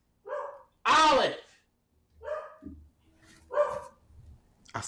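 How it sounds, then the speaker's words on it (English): A dog barks several times nearby, loud sharp barks spaced irregularly, with a person speaking briefly between them. "I don't know what she's barking at."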